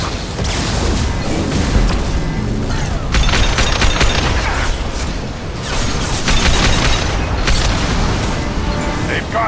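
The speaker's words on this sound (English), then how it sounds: "Watch out, flashbangs!" Flashbang grenades go off amid heavy combat in Mass Effect Legendary Edition, with loud booms and crashes layered over continuous gunfire and battle noise, and a voice briefly calls out.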